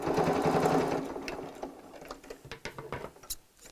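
A domestic sewing machine stitches a tacking stitch along a patchwork bag, starting with a dense whir and then breaking into quick, rhythmic ticking pulses close by.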